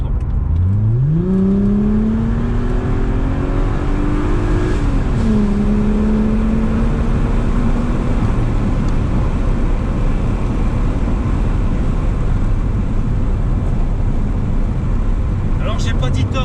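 A Chrysler Crossfire with a Simons exhaust revs from about 1500 rpm to past 2500 rpm. The engine note climbs and holds as a loud, close drone with a coarse rumble underneath, then stays at a steady loud roar. Someone talks over the engine.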